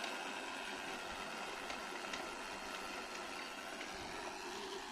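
A homemade DIY cultivator engine running steadily, a continuous droning hum at even level with no pauses, heard from close by with no voices.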